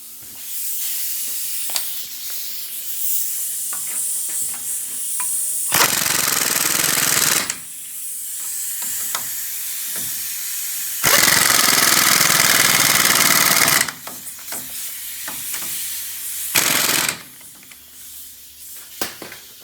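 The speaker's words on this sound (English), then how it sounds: "We'll get our 18 millimeter on the impact and get these nice and tight." A pneumatic impact wrench tightens 18 mm brake caliper bolts on a 2002-2009 Chevy Silverado, firing in loud, close bursts of hammering with a hissing air rush and quieter pauses in between.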